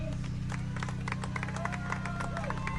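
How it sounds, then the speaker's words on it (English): Steady crowd noise fills a packed football stadium as the home fans roar to back the Panthers' defense on fourth and two against the Eagles, with scattered claps and shouts over a constant low rumble throughout. "the crowd's making a lot of noise to try to help the Panthers out"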